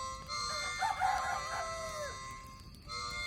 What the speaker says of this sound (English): The country cocks do crow